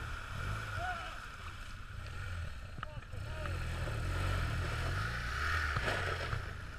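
A BMW HP2 motorcycle engine rumbles low and steady as it rides off-road, its pitch rising and falling with the throttle. Heavy wind buffeting on the microphone partly masks it throughout.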